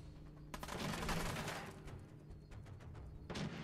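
Gunfire from a weapon in Fallout 4: several sharp, faint shots crack out in a quick cluster, then a pause and another short burst near the end.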